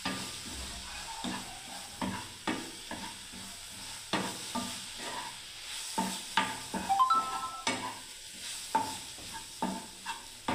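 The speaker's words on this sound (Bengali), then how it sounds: "সুজিটাকে সবটাই ঢেলে দিলাম। ভালো করে আবার নাড়ছি বন্ধুরা" Semolina being stirred in a hot pan for upma: repeated scraping and tapping strokes of a spoon against the pan over a low sizzle, close and steady, with an uneven rhythm throughout.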